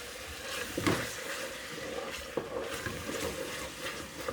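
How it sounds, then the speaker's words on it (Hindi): Turnip bharta masala frying in a pan, a steady close crackling sizzle with a few sharp scraping knocks from stirring, no voices. "देखें व्यूअर्स, मसाला हमारा भुन चुका है"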